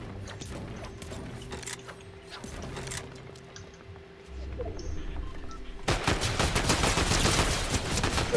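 Gunfire in the video game Fortnite, scattered sharp shots at moderate distance, then a denser, louder burst of rapid fire near the end.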